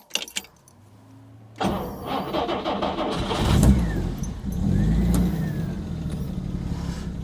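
A Jaguar E-Type with an oil pressure gauge issue, sitting in a workshop, starts up after some clicks and key rattles: the starter cranks, the engine catches suddenly and settles into a loud, rumbling idle with a couple of revs.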